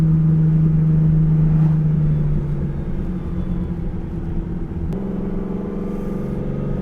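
Ferrari 365 GTC/4 engine heard from inside the cabin while driving, a loud steady low drone with a shift in pitch partway through as the engine note changes.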